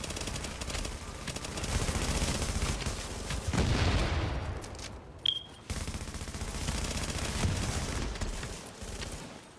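Sustained automatic gunfire from the video game The Division rattles in dense bursts, with a brief lull and a sharp pop midway before the firing resumes just as heavily.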